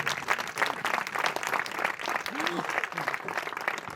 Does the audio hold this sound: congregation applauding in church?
yes